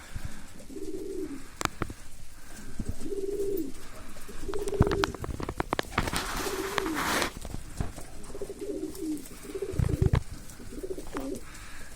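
Breeding homing pigeons peck at mixed feed and coo repeatedly in low, rolling phrases close by, with steady pecking clicks and rustling underneath.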